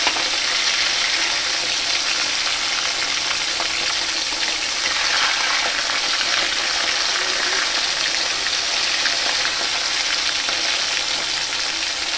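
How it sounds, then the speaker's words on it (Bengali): Tengra fish sizzling steadily in hot oil in a pan, a continuous loud bubbling crackle with no talk. "আর আমি মাছগুলো উল্টে পাল্টে ভেজে নেব।"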